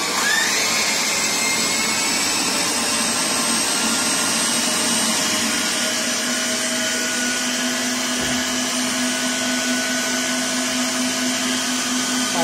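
A homemade central vacuum cleaner unit runs continuously and loudly with a steady high-pitched motor whine and rushing airflow, close by and unbroken throughout, with no talking over it.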